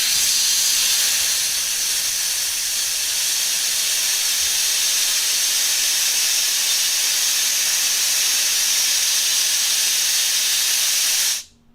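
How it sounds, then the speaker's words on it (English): Air hisses loudly and steadily out of a jack as it lowers a load onto VEVOR 6-ton jack stands, a continuous sharp rush of air that runs for about twelve seconds before cutting off abruptly. "I'm going to let the air out, and we'll watch it sing."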